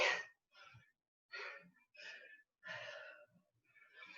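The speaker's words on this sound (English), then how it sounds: "I'm breathing hard here." Heavy, ragged breaths after a kettlebell workout come in close, loud bursts of panting gasps and exhales, separated by brief pauses.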